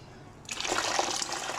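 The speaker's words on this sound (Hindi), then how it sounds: "एक जग पानी डाल के इसको अच्छा सा मिक्स करेंगे हम।" A jug of water pours into raw mango sharbat, starting abruptly after a quiet moment and continuing as a close, steady splashing gush.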